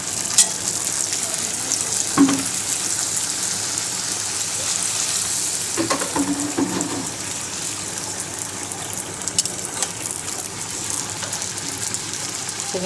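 Panch phoron spices crackling and sizzling in hot oil, a steady close frying hiss with occasional stirring clatters throughout.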